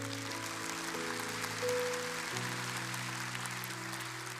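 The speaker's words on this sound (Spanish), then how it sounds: "Y dele un aplauso a Cristo en esta tarde." A congregation claps during a church service while sustained organ or keyboard chords play loudly underneath, the applause a soft continuous patter behind the music.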